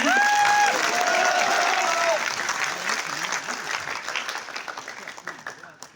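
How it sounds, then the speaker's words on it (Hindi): Applause from an audience at a speech event in a New Delhi hotel, loud dense clapping that starts strong with a brief tone and whoops near the start, then gradually thins and fades toward the end. "तालियों के साथ जवाब दें"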